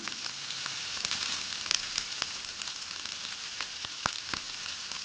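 Hot tempering (oggarane) poured into dal rasam sizzles and crackles steadily, with sharp pops scattered through a continuous close frying hiss.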